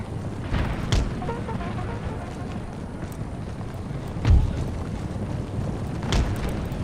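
Guns firing in the battle game Empire Total War, three dull distant booms spaced a couple of seconds apart over a steady rumbling battlefield din.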